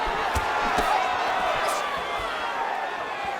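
Arena crowd in the UFC 5 fighting game cheering after a women's bout grappling exchange, a steady roar with occasional thuds, under a commentator's voice.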